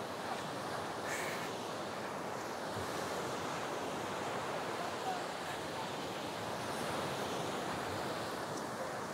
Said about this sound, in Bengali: ফাইনালি সমুদ্রের পাড়ে।